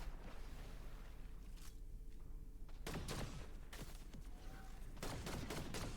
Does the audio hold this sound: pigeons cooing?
no